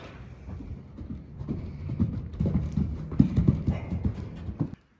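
Horse hooves clip-clop in a steady rhythm at a stable, growing louder as the horse nears, then stop abruptly.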